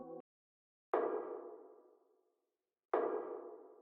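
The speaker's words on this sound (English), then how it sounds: "So obviously this served as like a snare hitting on the 3" Two identical percussion hits, used as a snare on the third beat of an FL Studio percussion loop, each a broad bright thump with a long decaying tail, about two seconds apart, preceded by a brief tonal blip.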